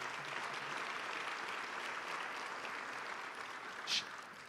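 An audience at a State of the Government address gives a round of applause, a steady wash of clapping heard somewhat distant and soft, with a brief sharper sound near the end.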